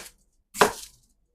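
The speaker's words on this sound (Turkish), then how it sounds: "Kartuşkalarımızı doğrayırıq." A single knife chop through potatoes on a board in a kitchen where quail and vegetables are being prepared, one sharp close impact followed by brief silence.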